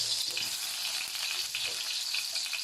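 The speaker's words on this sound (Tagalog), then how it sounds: "So gisa-gisa lang natin yan lahat" Unpeeled garlic cloves and chili sauté together in a pan for a chicken ginataan, making a soft, steady sizzle and crackle with faint stirring throughout.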